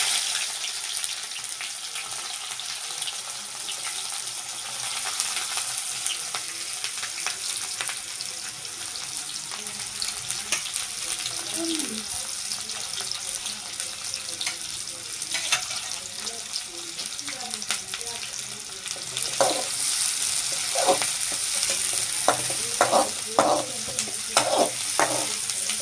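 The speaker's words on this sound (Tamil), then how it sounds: "நம்ம இப்போ ஆயிலை கொதிக்க வச்சுருக்கோம். இப்போ நம்ம ஆனியனை உள்ளே போட்டுடலாம்." Onions sizzling in hot oil, a steady bright crackle under faint clatter, with sharper scraping stirring strokes growing busier toward the end.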